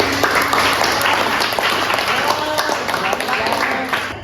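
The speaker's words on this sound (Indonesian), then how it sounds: "beri tepuk tangan dulu" A classroom full of students clapping together, a dense burst of applause that holds steady and then starts to fade at the end.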